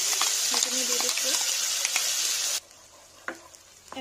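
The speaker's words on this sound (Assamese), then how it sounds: "এনেদৰে তেল এৰি নিদিয়ালৈকে অলপ ভাজি থাকিব।" Ground tomato paste fries in hot oil and butter in a pan, giving a loud, bright sizzle with stirring clatter that cuts off abruptly partway, leaving near-quiet with a faint knock.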